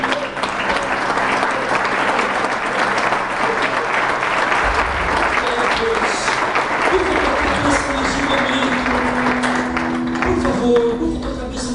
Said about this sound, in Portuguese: Você pode aplaudir esse Deus